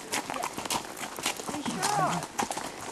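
Horse hooves clip-clop at a steady walking rhythm on a foggy trail ride in Moses Cone Memorial Park, Blowing Rock, North Carolina, heard close under people talking.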